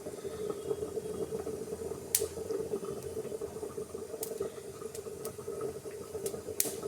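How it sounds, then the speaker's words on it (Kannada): Mustard seeds spluttering in hot oil as a tempering for fish sambar: a handful of sharp, scattered pops crackle over a steady low background hum, near and fairly quiet. "ಸಾಸಿವೆ ಸಿಡಿತಾ ಇದೆ."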